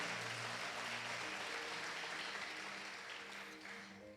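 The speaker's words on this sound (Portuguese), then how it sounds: "Pode aplaudir Jesus" A congregation applauds during a church worship service, dense sustained clapping from many people at a fair distance, with a low hum of music or voices underneath that fades slowly toward the end.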